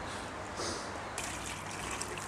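Warm gray water carrying kitchen food waste, pumped from beneath a bathtub, pours and trickles steadily into a biodigester, growing brighter and splashier partway through.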